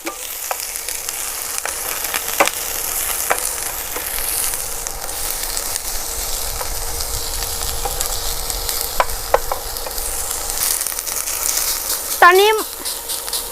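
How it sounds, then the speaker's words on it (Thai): Pork stir-fried in a hot pan for Cantonese greens in oyster sauce, a continuous sizzle with scattered scraping and clinking of the spatula, and a brief squeak near the end. "ผัดให้ให้เข้ากันเลยนะครับ ผัดจนกว่าหมูจะเริ่มสุกนะครับ"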